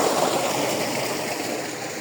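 Irrigation water flows steadily into village fields planted with carrots, a continuous broadband rushing and trickling that stays loud and even throughout, with no voices.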